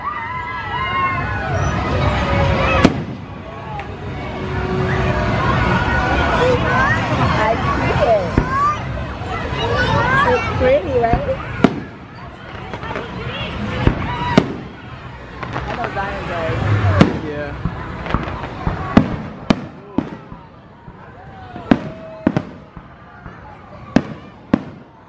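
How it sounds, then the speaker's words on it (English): Fireworks at a theme park bang and crackle in irregular bursts, with sharp pops growing more frequent toward the end, while a crowd chatters and cheers throughout. "Check the fireworks. You see it?"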